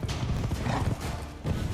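Pig enemies charging in The Witcher 3: Blood and Wine, acting like boars and rearing up, with a busy, trampling clatter of hooves and snorting grunts that runs continuously for about two seconds, with no talking.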